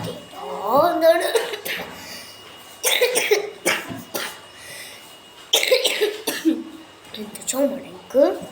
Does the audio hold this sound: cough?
yes